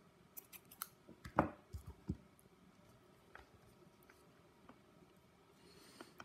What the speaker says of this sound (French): Et je peux couper mon fil rouge.